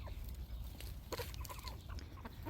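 Native Korean chickens, including a rooster with a curly comb, cluck softly in a rural farmyard in the morning, scattered short calls over a low background rumble, faint and somewhat distant.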